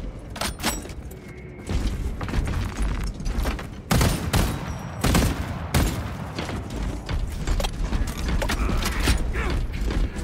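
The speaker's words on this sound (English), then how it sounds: "Reloading weapon." Mechanical clanks, clicks and metallic ratcheting of a weapon reloading in Warhammer 40K Space Marine 2, mixed with bursts of gunfire and heavy impacts in a busy battle soundscape.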